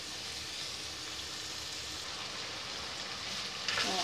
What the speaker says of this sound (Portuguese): Ó, tá vendo? Tá fritando.